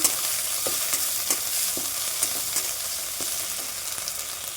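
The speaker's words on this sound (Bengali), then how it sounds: "এবার দেব আমি আদা, রসুন, শুকনো লঙ্কা, ধনে বাটাটা দিয়ে দেবো। মশলাটা ভালো করে কষিয়ে নেব।" Ginger, garlic, dried chilli and coriander paste fries in hot oil with slit green chillies, a steady close sizzle broken by repeated scraping stirs of a spatula across the pan.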